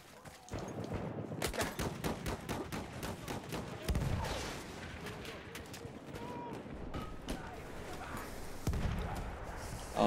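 Rapid bursts of submachine gun fire from a Hellriegel in Battlefield 1 multiplayer, repeated close sharp volleys over dense battlefield noise, with voices talking throughout.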